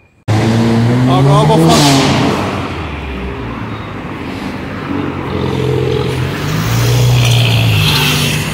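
A city bus pulls away from the Campo Limpo terminal in São Paulo, its engine rising loud and close then settling into a steady drone as it moves off, with someone speaking briefly at the start.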